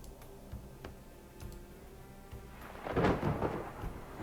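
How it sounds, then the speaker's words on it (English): Thunder rumbles in the distance during a storm, a low swelling roll that builds after a few quiet seconds with faint ticking and light rain around it. "the sound of thunder"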